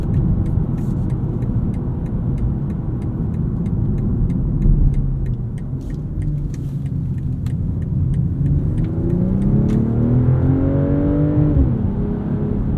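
Exhaust of a 2023 BMW M340i xDrive in sport mode, heard from inside the car as a steady, loud engine drone that climbs in pitch as it revs up toward the end.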